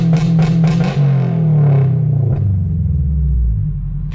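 A Toyota GR86 engine held on launch control at about 5,000 RPM: a loud, steady, droning rev with a crackly edge. It settles and drops lower toward the end, and no one talks over it.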